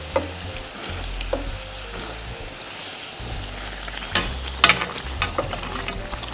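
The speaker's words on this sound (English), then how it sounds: "And fry your bakes as dark as you like." Onion fried bakes frying in a pan give a steady sizzle and crackle of hot oil, broken by a few louder spatters and clinks of a utensil moving them about.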